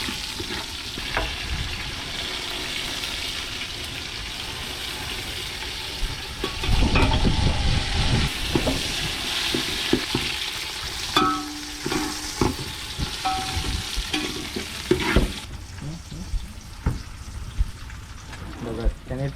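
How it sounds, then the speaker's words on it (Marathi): Chillies frying in hot oil for a tadka give a steady, close sizzle and hiss that runs throughout, with stirring clatter and a louder burst partway through. "एक नंबर तडका लावला"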